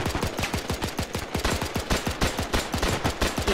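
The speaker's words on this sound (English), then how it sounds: "Just shooting into the trees now." Rapid machine gun fire in Brothers in Arms, a sustained, evenly spaced burst of loud shots at a fast steady rhythm, close and continuous for several seconds without speech.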